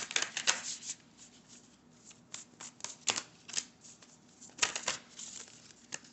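Tarot cards are shuffled by hand in repeated bursts of crisp riffling and slapping, close and fairly quiet, with short pauses between the bursts and no talking.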